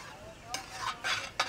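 Cooked rice is tipped into a pan of tomato curry and stirred, giving short scraping and sizzling bursts against a quiet background.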